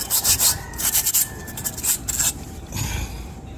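Rough scraping in bursts, as a tool works at concrete around an embedded water valve; repeated strokes come close and moderately loud, with short pauses between them.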